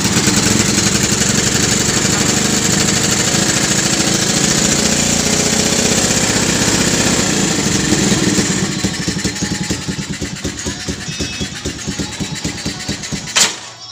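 A motorcycle engine on a three-wheeler runs loudly and close, churning roughly at first, then settling into a lighter, uneven idle with a short sharp rev near the end.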